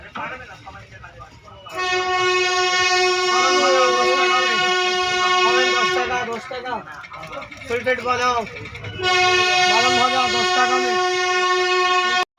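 Train 13417 from Asansol to Malda rumbles along past Durgapur, sounding two long, loud horn blasts separated by a stretch of clattering rail noise.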